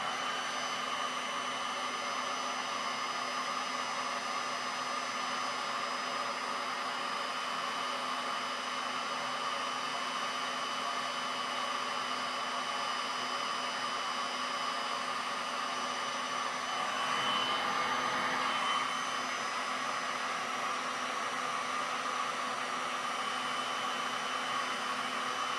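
A heat gun warms red resin pigment poured on a galvanized metal sign, giving a continuous blowing drone held for a long stretch at an even level, with only a brief swell midway.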